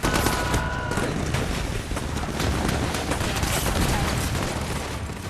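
Dense, continuous gunfire rattles without pause, heavy machine-gun bursts blending with booming blasts into a roaring wall of noise.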